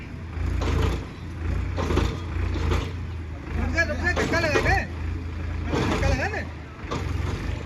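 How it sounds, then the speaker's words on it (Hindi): A tractor stuck on a badly damaged road in Ward 2 of Farrukhabad gives a continuous low, rumbling engine drone, with someone talking over it throughout. "देखिए ट्रैक्टर फंस भी गया है यहाँ पर"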